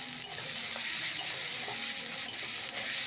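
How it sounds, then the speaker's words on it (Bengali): Onion, tomato and green chili sizzling in hot oil in a pan, a steady bright hiss with faint stirring scrapes, close and continuous, no voices. "আগে থেকে কেটে রাখা পেঁয়াজ, টমেটো, কাঁচা লঙ্কা তেলেতে একসঙ্গে দিয়ে দিলাম।"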